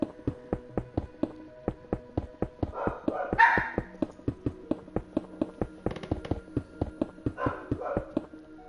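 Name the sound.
dog barking in the background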